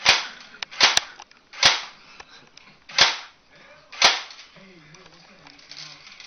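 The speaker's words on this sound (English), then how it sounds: "This is my AK-47. CapGun." A toy AK-47 cap gun fires five sharp, loud single shots at irregular intervals, followed by quieter mechanical clicks and a faint background tone.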